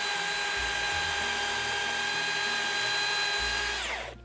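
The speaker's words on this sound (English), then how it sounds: "that's the most powerful cordless saw I've ever used" Cordless power saw whines at high speed while cutting outdoors during land clearing, a loud steady motor tone that holds for several seconds, then winds down at the end.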